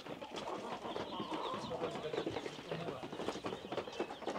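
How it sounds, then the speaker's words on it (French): Chicks raised under a turkey hen cluck and peep busily together at close range, while people talk over the steady farmyard chatter of the birds. "c'est des poulets et leur maman c'est une dinde"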